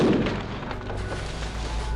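Dense, continuous crackling bursts of gunfire with rumbling booms as Indonesian security forces fire on student protesters at Trisakti, heavy and chaotic, filling the whole moment without pause.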